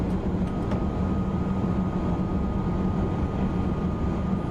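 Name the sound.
TGV Duplex train running, from video game Train Simulator 2019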